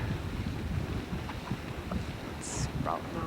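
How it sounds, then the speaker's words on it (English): Jet Geyser in Montana spouts water with a continuous broad rushing hiss, like strong wind on the microphone, and faint voices briefly over it. "It's one called Jet Geyser."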